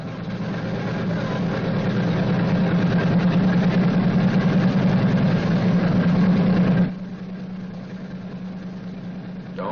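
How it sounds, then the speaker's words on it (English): Radial piston engine of a B-29 bomber running, a loud steady low roar with a rough rumble that drops abruptly to a quieter, lighter drone partway through. "When the engine fires, move the mixture control to auto-rich."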